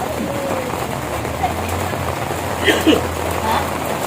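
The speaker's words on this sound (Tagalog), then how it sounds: "Diabta na mi diri sa uwan mga maninay" Steady rain patters on a surface, a broad continuous hiss with a few louder drips, while faint voices murmur in the background.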